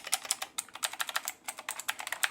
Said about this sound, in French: Et là les gars, on a le clavier. Ah oui, le bruit, il est incroyable.